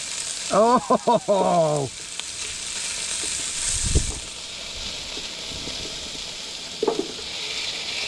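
Meat and potatoes sizzling while cooking outdoors at a camp, a steady close hiss with occasional pops, and a brief burst of speech near the start.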